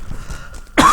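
A man teaching a Hindi-language history lesson coughs once, a sharp, loud, close burst right after a stretch of quiet, low murmuring.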